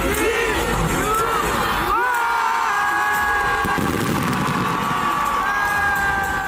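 A huge crowd packed along Lusail Boulevard in Qatar cheers and whoops through a New Year celebration, a dense, steady roar with shrill shouts rising above it, with laser shows, fireworks and music around them.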